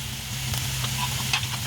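Tomatoes dropped into pork spare ribs frying in a pan, a continuous close sizzle with a few soft stirring clacks and spatters, no talking.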